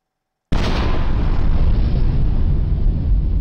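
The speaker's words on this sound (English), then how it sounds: "Massive explosion sounds." A sudden, massive explosion in the sci-fi video game Line Of Defense bursts in after a brief silence, then roars on as a loud, sustained rumble.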